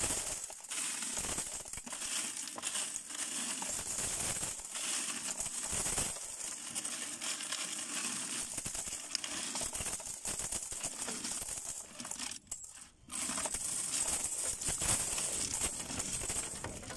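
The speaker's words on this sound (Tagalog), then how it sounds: "Hulog na yung barya sa sobrang dami guys." Many coins from a Pisowifi coin-operated Wi-Fi vending machine pour and clatter in a long continuous jingling rush, close and steady, with a brief pause partway through before the clinking resumes.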